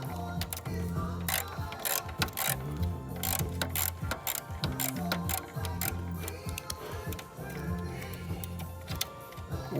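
Ratcheting clicks from a wrench loosening the exhaust clamp on a 2015 Honda CB1000R, during installation of an IXIL L2X Hyperlow exhaust. Rapid, steady ratchet-and-pawl ticking fills the whole stretch, close and continuous, with no talk.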